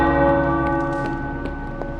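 Church tower bells ring in the game Marvel's Midnight Suns, loud overlapping peals with a repeated strike about every half second over a sustained bell hum.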